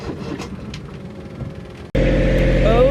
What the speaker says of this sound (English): motor is running